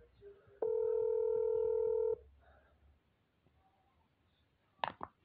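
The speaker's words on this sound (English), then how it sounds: "she didn't pick up the phone." A phone call is placed: a loud, steady dial tone lasts about a second and a half, then the line goes quiet and unanswered, ending in a couple of brief clicks or knocks.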